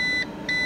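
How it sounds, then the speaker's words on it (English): A UPS battery backup unit running on battery power after a power cut sounds a loud electronic alarm, with two steady high beeps separated by a short gap, close by and with no voice over them. "it's going beep beep"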